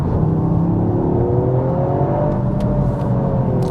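Toyota GR Yaris accelerating hard on dry tarmac with traction control off, a loud in-car engine roar rising steadily in pitch through the pull, with no one speaking.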